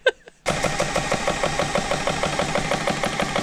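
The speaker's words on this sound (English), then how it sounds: "Got the, 1994 Kawasaki Bayou 400 four-wheel drive." A 1994 Kawasaki Bayou 400 four-wheel-drive ATV engine, which leaks a little oil, idles steadily after a short burst of noise, its close, even mechanical chug holding a rapid regular rhythm throughout.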